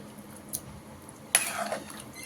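A spoon stirs mutton curry in a metal pot, making a faint clink followed by a louder scraping clatter against the pot, quiet overall with no voices.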